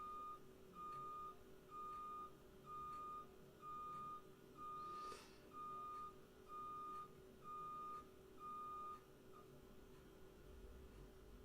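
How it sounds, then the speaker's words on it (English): A reversing truck sounds a steady series of evenly spaced electronic beeps, about ten in a row, moderately far off over a low hum. "How many times are you going to move that truck today?"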